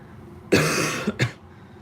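A podcast host with the flu coughs twice in quick succession, a strong harsh burst followed by a shorter second cough, close and loud against a quiet room with no talking.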